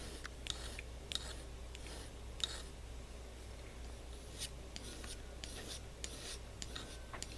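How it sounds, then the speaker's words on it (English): An X-Acto scalpel blade is stroked over jeweler's rouge on cereal-box cardboard. It gives soft, quiet, rhythmic rubbing swipes against a low background hum. "This X-Acto blade, I polish it a few times just to make sure it is nice and sharp"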